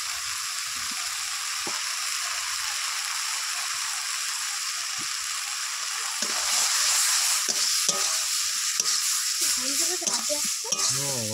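Potatoes fry with turmeric powder in a pan, giving a loud continuous sizzle with occasional stirring scrapes that grow busier toward the end, close up and with no voices.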